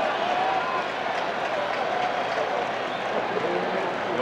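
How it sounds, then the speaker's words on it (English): Dense, steady roar of a big baseball stadium crowd at a 1980 NLCS playoff game between the Phillies and Astros, loud and sustained throughout with faint voices mixed in. "the noise of this crowd, it's quite loud"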